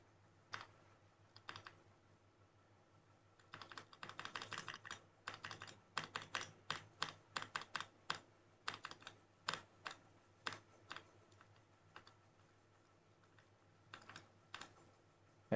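Keys clack on a computer keyboard as router commands are entered, with sparse early taps, then a quick, irregular burst of crisp, close keystrokes over a quiet, faintly humming room.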